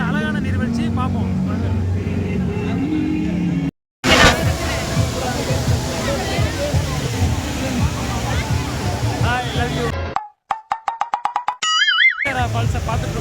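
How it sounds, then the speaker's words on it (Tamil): Niagara Falls roars as a continuous broad rush of water, with people talking loudly over it and brief breaks where other sounds cut in. "இதான் வந்து பெரிய நீர்வீழ்ச்சி, நல்ல அழகான நீர்வீழ்ச்சி."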